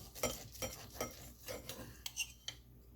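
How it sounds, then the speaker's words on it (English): A knife scrapes and clinks against a plate while slicing into a cooked filet mignon steak, several short metallic taps and scrapes in an irregular rhythm, close and fairly quiet with no talking. "I'm just going to take a knife and cut into this"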